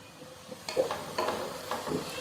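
Chopped onions sautéing with a little salt in coconut oil, a soft background sizzle broken by several scraping stirs of a spatula against the pan, close and moderate.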